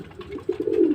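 King pigeons give soft, throaty cooing, a short series of low rolling coos close by that grows slightly louder toward the end, with no talking.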